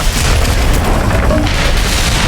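A burning camp explodes in a film scene, a loud continuous roaring blast with dense rumbling and crackle filling the whole moment.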